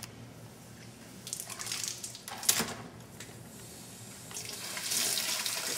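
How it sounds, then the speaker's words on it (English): Water from a hose runs into the fill port of a backpack sprayer tank, a hissing, splashing pour that swells and fades in uneven surges, close by with no talking. "We're going to fill this in our fill port here with the water out of a hose."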